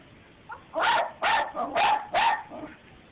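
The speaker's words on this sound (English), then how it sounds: "And the dogs are going to be back on in a second." Dog barking: four loud, close, evenly spaced barks in quick succession with a few softer yips between them.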